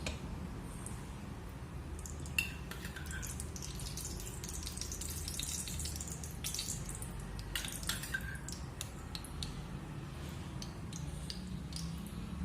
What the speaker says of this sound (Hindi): सबसे पहले अपने डालेंगे घी।